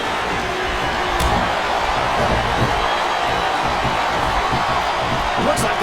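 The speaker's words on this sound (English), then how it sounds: "I'm not sure I agree with what the crowd is chanting, JR" Steady crowd noise from the arena audience in the wrestling video game SmackDown vs Raw 2007, a loud continuous roar with a rhythmic chanting swell and faint cheers.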